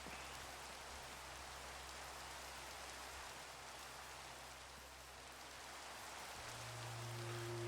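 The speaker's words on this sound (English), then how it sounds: "We love the rain." Steady, even Minecraft rainfall hissing continuously, a dense wash of drops with no voices, joined by a low hum near the end.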